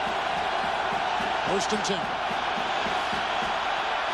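A steady, dense crowd roar fills a Buffalo football stadium during a 1998 Dolphins at Bills NFL game, continuous throughout while a commentator speaks briefly over it.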